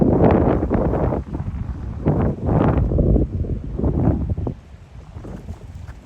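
Strong gusty wind blows at the Odessa seashore with rough sea, loud buffeting bursts of rumbling noise rising and falling in waves close to the microphone.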